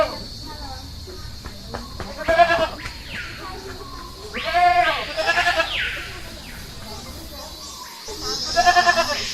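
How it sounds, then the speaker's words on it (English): A goat bleats in a series of three wavering, nasal calls spaced a couple of seconds apart, fairly close and clear against a quiet background. "Goat."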